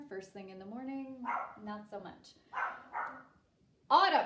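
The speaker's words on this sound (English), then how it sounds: "I'm so sorry about the barking dogs." Several dogs bark in short bursts, a few yips and howl-like harmonic barks near and loud, interleaved with a person talking over them.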